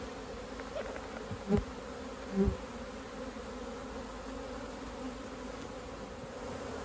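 Honey bees buzzing around an opened beehive during chalkbrood cleanup, a faint steady hum with a couple of brief louder passes close by, and a short murmured voice.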